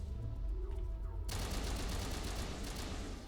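Gunfire in the video game Mass Effect, a quiet lead-in that suddenly erupts into a sustained crackling fusillade of rapid shots, continuous and dense at moderate loudness without talking.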